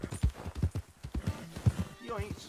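Rhythmic clip-clop of a horse trotting in Red Dead Redemption 2, hooves thudding steadily and close, with a brief whinny near the end and someone talking over the hoofbeats.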